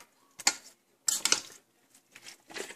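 A utensil stirs cooking pasta in a pot, making a few sharp clinks and scrapes against the metal in short separated bursts, close and fairly quiet.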